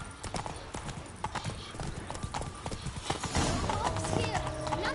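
Horse hooves clip-clop in a steady galloping rhythm in The Witcher 3: Blood and Wine, close and continuous, with game ambience swelling in the background.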